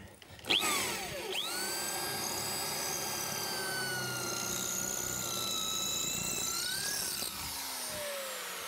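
A power drill whines steadily at high pitch, its bit grinding through brick masonry for several seconds after a short start, then winds down near the end.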